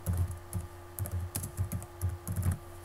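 Keys clatter on a computer keyboard in quick bursts of clicks with short gaps, close and quiet, no one talking.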